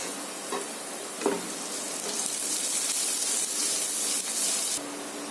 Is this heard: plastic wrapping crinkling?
no